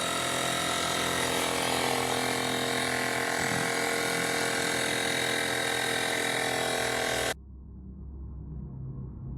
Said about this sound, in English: this woman bought a new compressor and decided to pump the wheel on her